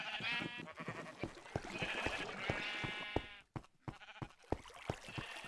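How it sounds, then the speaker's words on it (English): Sheep bleat over and over in the Minecraft video game, several overlapping wavering cries at moderate volume, followed by a short pause and then scattered soft clicks and taps. "We have a bunch of sheep."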